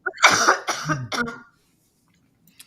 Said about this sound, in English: I'm going to have to cough for a second